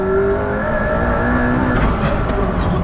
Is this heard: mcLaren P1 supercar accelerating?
yes